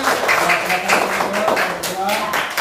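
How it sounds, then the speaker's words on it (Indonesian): A class of students claps together in a classroom, a steady patter of hands lasting a few seconds, with voices mixed in over the applause. "Tepuk tangan lagi sekali lagi"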